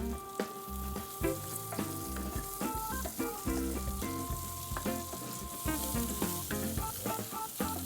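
Chopped onions sizzle steadily in a hot pan for chicken tinola, with repeated stirring and scraping knocks over a continuous close frying hiss, no talking.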